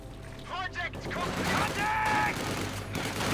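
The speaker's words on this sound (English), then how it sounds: "opening up with their MP40s, tearing through the combat engineers" Rapid bursts of MP40 submachine gun fire from the Company of Heroes 2 strategy game crackle through a dense mix of battle noise, while a commentator talks over the action almost throughout.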